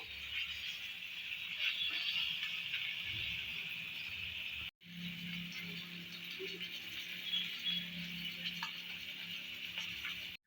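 Fish pieces coated in wheat flour shallow fry in oil, giving a soft steady sizzle with faint crackles and a brief dropout midway, the hiss quiet and continuous.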